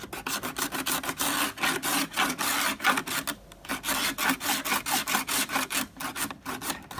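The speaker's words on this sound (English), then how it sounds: "Oh, it's just cracking and breaking off." A porcelain RCA record album is ground against a tungsten carbide sharpener, giving loud, rhythmic rasping strokes in quick succession with a brief pause midway, harsh and scratchy up close.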